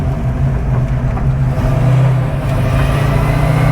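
A 1966 Fastback car being driven, heard from inside as a steady loud low engine drone with road rumble and no talking.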